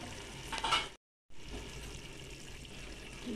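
Rice poured into a pot of frying vegetable biryani with peas, giving a brief rustling clatter and sizzle, then a short silent gap followed by steady frying hiss.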